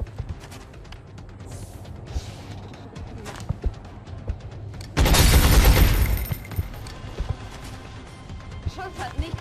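Gunfire in the video game XCOM Enemy Within: a single loud, broad burst of shots lasting about a second, standing out over quieter game ambience with scattered smaller clicks and impacts.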